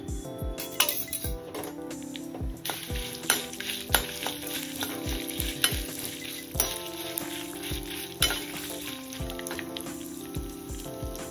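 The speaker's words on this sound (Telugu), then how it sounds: "2 స్పూన్ల ఆయిల్ వేసి మిర్చిని వేయించేసుకోవాలి." Green chillies frying in two spoons of oil in a pan for a village-style vakkaya pachadi, giving a steady close sizzle broken by repeated clinks of a spoon stirring against the pan, with no voices.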